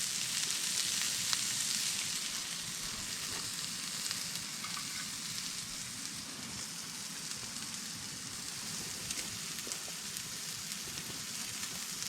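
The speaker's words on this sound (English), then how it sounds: "Hear that sizzle." Bacon frying in a brand-new pan on a camp stove gives a continuous dense crackle and hiss, steady and close, with no voices over it.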